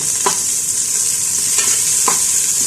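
Chopped onion and garlic sizzling steadily in a hot pan, a continuous bright hiss with a few soft stirring scrapes, close and fairly loud, with no voices.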